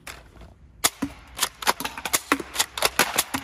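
An M32 manual grenade launcher style foam dart blaster with a rotating cylinder fires in quick manual succession, a rapid series of sharp snapping clicks and pops after a brief quiet start, close and fairly loud.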